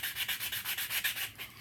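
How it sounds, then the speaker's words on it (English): Sandpaper rubs back and forth over a miniature wooden chest of drawers made from recycled material, giving about a dozen quick, rhythmic scratchy strokes, close and fairly loud, with no voices. "Now what I'm doing right now is, like I said, I'm sanding it"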